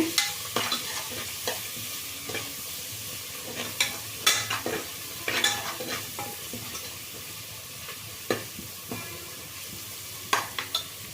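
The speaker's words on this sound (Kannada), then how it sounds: "ಸ್ವಲ್ಪ ಫ್ರೈ ಆಗಲಿ" Coriander, mint and fenugreek leaves frying in a pan, with a soft continuous sizzle under repeated scraping and tapping strokes of a spoon stirring the greens, close and fairly quiet.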